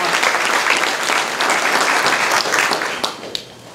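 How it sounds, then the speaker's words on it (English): Big, sustained round of applause from a seminar audience, dense and loud throughout, thinning slightly with a few separate claps near the end. "one more very big round of applause to every single one of you for coming here today"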